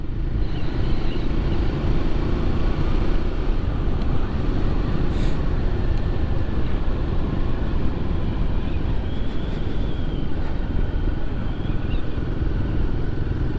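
Steady, loud engine drone and road rumble while riding a Royal Enfield Guerrilla 450 motorcycle, a constant close hum with wind noise and no talking.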